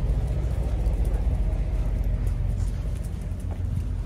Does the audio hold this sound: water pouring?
no